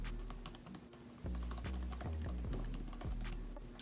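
Rapid, irregular key clicks from typing on a 2020 MacBook Air's Magic Keyboard, close and crisp over a steady low hum, with no voices.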